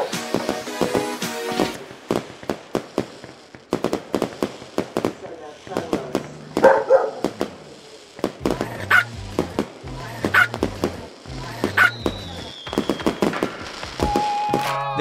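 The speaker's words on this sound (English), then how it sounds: "This is mostly acted out with barking streaks." Poodle barking in short streaks, sharp repeated barks scattered across the clip amid pops and clicks, with a voice talking at times.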